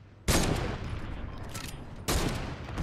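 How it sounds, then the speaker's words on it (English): Gunfire in the Fortnite video game: two loud bursts of rapid shots, the first running for nearly two seconds and the second starting after a short lull, with no talk. "that guy on our right's trying to shoot us"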